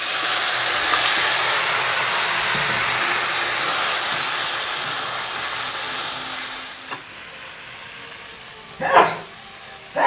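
Small prawns fry in a pan with a steady sizzle that slowly fades, followed by a couple of brief clinks and stirring sounds near the end.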